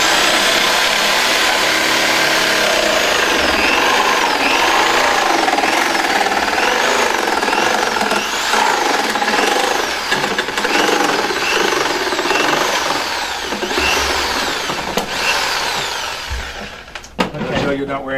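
A variable-speed jigsaw cuts continuously for most of the stretch, a loud, buzzing whine with a rising and falling rhythmic pitch that winds down near the end, with talk beneath it.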